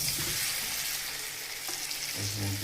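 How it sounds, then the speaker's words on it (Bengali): Taro (kochur mukhi) frying in a pan with ground garam masala, a close crackling sizzle with a brief stir or clatter toward the end, no speech. "দিয়ে ভালো করে ভেজে নিতে হবে"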